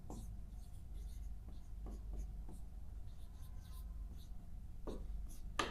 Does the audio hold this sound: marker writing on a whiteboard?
yes